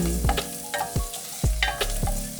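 Garlic frying in a hot pan, a steady sizzle broken by repeated stirring scrapes at a regular pace, close and fairly loud with no talking.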